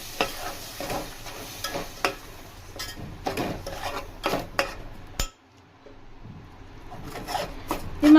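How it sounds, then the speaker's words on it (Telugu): Masala paste fries in a pan for a potato and egg curry, with loud scraping strokes of a spatula and a low sizzle under them. The stirring pauses briefly partway, then resumes, with no speech. "ఈ పేస్ట్ కూడా యాడ్ చేసుకొని ఇది కూడా పచ్చి వాసన పోయే వరకు ఫ్రై చేసుకుందాం"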